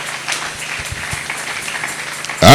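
A church congregation applauds and acclaims the Lord with a steady wash of clapping and crowd noise, then a voice breaks in at the very end.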